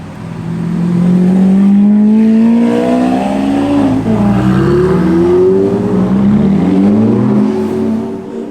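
A Lamborghini Aventador SV supercar at the Top Marques Monaco show revs hard and drives past close by, its engine note rising and falling through several loud sweeps before fading, with no voices.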